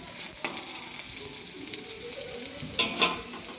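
Capsicum sizzles steadily as it fries in a pan, a continuous close hiss with two sharper crackling bursts near the start and the end.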